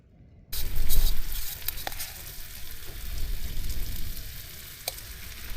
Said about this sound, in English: get this frying pan back on with the chicken in and keep it hot